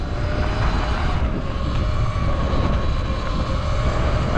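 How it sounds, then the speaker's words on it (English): An ERide Pro SS electric bike riding along, a steady loud broadband rush of wind and road noise with a faint whine, continuous and unbroken throughout. "Bike moves."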